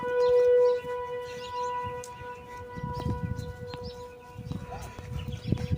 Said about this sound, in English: There's a tornado siren.